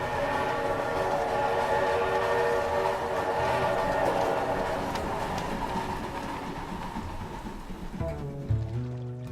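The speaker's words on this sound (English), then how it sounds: "we chased an old steam train around through the woods and fields" Old steam train rolling past through woods and fields, a dense steady rumble of wheels and machinery with whistle-like tones, close and loud throughout, dropping to lower chugging near the end.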